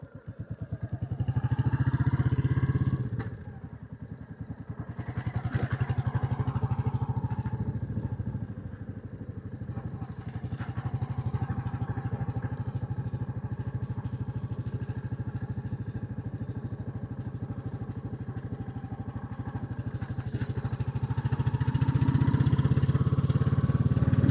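A Royal Enfield Classic 350 motorcycle engine thumps steadily at close range, its single-cylinder beat pulsing through revs that rise and fall, steady cruising and a louder surge near the end, with no talking.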